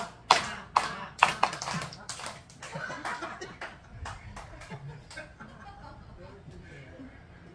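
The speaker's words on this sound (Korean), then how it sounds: "자동 박수 열 번 시작." A group clapping along to a counted exercise for healthy brain aging, with a few loud sharp claps at the start, then softer scattered clapping mixed with chatter and laughter.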